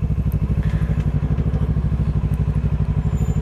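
A motorcycle engine during break-in riding runs with a steady, rhythmic low thrum and a pulsing beat, close and continuous, with faint clatter and no voices.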